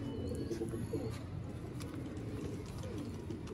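Pigeons, kept fancy breeds in a loft setup, coo in a soft continuous murmur close by, with faint chirps and distant background noise running steadily underneath.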